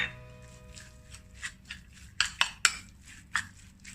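Chicken momo filling is stirred in a bowl, giving quiet scraping and a few sharp clinks of a utensil against the bowl, with several louder knocks clustered near the end.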